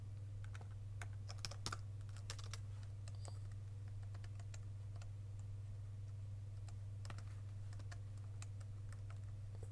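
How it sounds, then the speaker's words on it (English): Fingers type steadily on a computer keyboard while a fighting game AI is being set up, making irregular close clicks and key taps over a constant low electrical hum, with no talking. "I have to look at the keyboard when I'm typing it."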